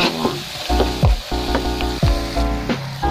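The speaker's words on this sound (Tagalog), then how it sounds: "habang ginigisa ko po yung sibuyas at bawang" Chopped onion, garlic and pepper sautéing in a hot pan for tofu with kangkong: a loud, close sizzle with rhythmic stirring and scraping strokes roughly every half second, no voices.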